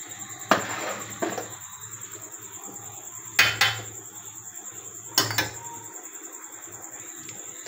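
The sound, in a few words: cooked beef being added into a biryani pot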